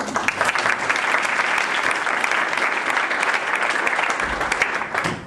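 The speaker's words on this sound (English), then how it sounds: "So, please give Mike Kessler a warm round of applause" A large lecture audience applauds loudly and steadily, the clapping sustained throughout with only slight swells.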